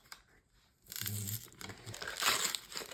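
A trading card booster pack being torn open and unwrapped, crisp crinkling and tearing of the foil wrapper close by, in two rustling bursts with no talking.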